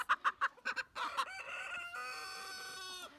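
Backyard coop chickens give several quick clucks, then a rooster lets out one long, loud crow that holds steady before cutting off.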